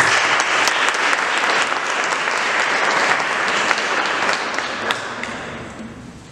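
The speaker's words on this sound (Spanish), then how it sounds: "Un aplauso" An audience at a recital of Italian art songs claps loudly and densely for a singer about to perform, dense applause that gradually thins and fades near the end.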